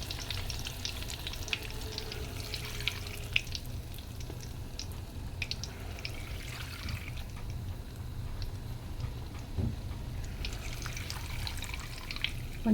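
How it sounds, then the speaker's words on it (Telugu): Flattened rice (atukulu) fries in hot oil with a steady, dense sizzle and crackle that runs throughout, with occasional stirring scrapes over the bubbling. "కొంచెం ఇలా వేసుకొని మంచిగా ఫ్రై చేసుకోవాలి అటుకులు ఫస్ట్"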